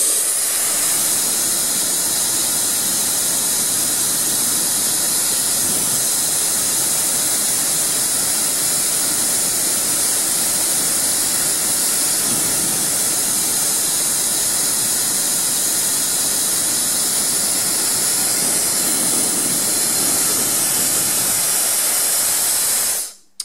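A Cecotec hair dryer blows air in a loud, steady, broadband whoosh that holds unbroken for over twenty seconds, up close, before cutting off abruptly at the end.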